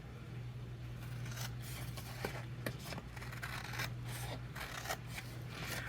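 Scissors cutting away scored paper on a Stampin' Up! floral box, faint crisp snips and rustling at close range over a low steady hum, no talking.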